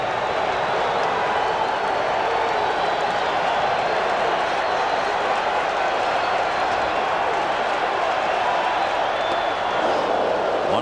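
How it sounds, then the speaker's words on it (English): Baseball stadium crowd roaring steadily at the 1986 World Series, Game 2, Red Sox at Mets, a dense wash of cheering and clapping that holds at an even level throughout, with no clear speech on top. "if you like crowd noise, if it does something to you, you come to the right place and at the right time"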